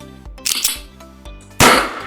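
Gunshots crack out in Minecraft, with a burst of noisy blasts followed by one loud shot, over a low background.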